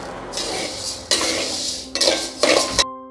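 Horse gram (kulthi) dry-roasts in a pan as a spatula pushes it around, producing loud, close bursts of rattling, scraping grain against metal in three or four sweeps before stopping abruptly.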